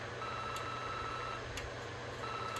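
A Honeywell 5800G security system demo board sounds its fire alarm: faint, evenly spaced electronic beeps about once a second over a constant background hum.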